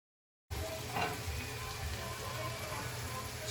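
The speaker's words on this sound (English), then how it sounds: "Ground beef is going to go in. You want high heat, you want to sear." Ground beef searing in a very hot pan with a little oil, giving a steady, loud, dense sizzle that starts abruptly after a short silence and holds on without a break.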